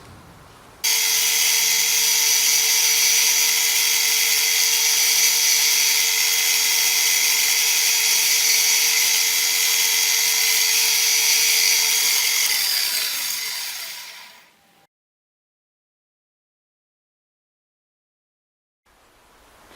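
A power drill runs loudly in one long continuous whine for about thirteen seconds while boring holes in a metal part for a model vintage truck, then winds down and stops, leaving silence.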